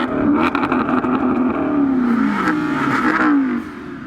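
A Maserati GT sports car engine revving hard, rising and falling in pitch through several throttle blips, loud and close, with no talk.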